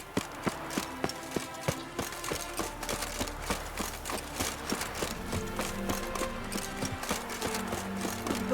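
Horse hooves clip-clop steadily in The Witcher 3 game world, a regular trotting rhythm running throughout over a dense musical score, with occasional faint voices in the background.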